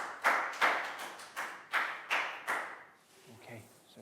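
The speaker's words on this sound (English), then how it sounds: "big round of applause for Nadia." A class of Year 4 pupils claps for a classmate in a school lesson, with several short, loud bursts of clapping in a rough rhythm that fade into murmuring near the end.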